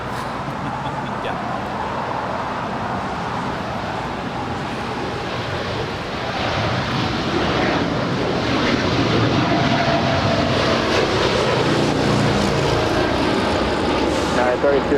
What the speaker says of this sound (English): This is United 32 Heavy departing to Tokyo Narita. It's a 787-9 Dreamliner.